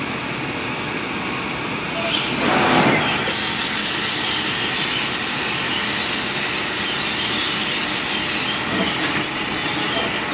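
A CNC laser cutting machine starts up again, a loud steady high hiss and whine of the cutter and its exhaust rising after a brief gust of air, running continuously and easing slightly near the end.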